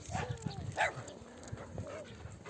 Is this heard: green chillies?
no